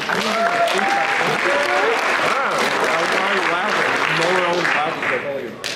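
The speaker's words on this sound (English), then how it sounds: "Let's clap it up for them" Sustained applause from a crowd, steady clapping filling the whole stretch, with some voices mixed in.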